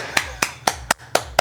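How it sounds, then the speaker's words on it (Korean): Six sharp hand claps in a steady, even rhythm, close and crisp, each one a short bright burst with nothing else between them. "자, 일단 박수"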